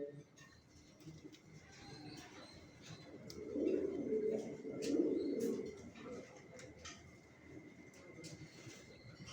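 Pigeons coo softly in a new bedding loft, a low throaty burst swelling in the middle amid quiet room ambience and faint background noises.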